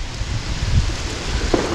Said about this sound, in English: Well, that rain coming down pretty good now.